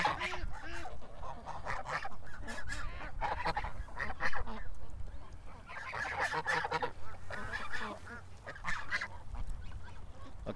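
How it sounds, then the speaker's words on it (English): A flock of geese honks loudly and repeatedly near the water's edge, overlapping calls coming thick and close in irregular bursts, with ducks nearby. "Okay, the geese are just surrounding me here."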